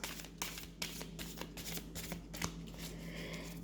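Deck of cards being gathered and shuffled, a run of crisp riffling bursts and soft flicks in an even rhythm, close and quiet with no talk.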